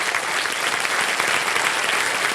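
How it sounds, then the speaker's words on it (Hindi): Studio audience on a televised quiz game show breaking into sustained applause, a dense, even wash of clapping from many hands that holds steady throughout with no speech over it. "तालियां बज जाए इनके लिए"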